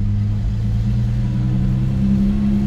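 A 1978 Chevy Opus Serie 2 coupé with a sports exhaust produces a close, loud, steady low rumble with a droning hum throughout, and no one speaks.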